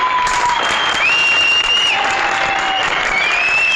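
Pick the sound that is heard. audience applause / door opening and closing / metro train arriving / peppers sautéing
audience applause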